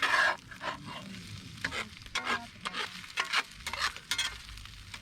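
Sausages fry in a pan at a campsite while being turned, giving a steady sizzle broken by a run of sharp scraping and clattering bursts as they are flipped, close and fairly loud, with no talking.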